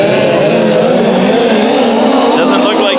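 Race car on the track at Bakersfield Speedway lapping ahead of a restart, with a steady loud engine roar that carries on throughout under continuous commentary.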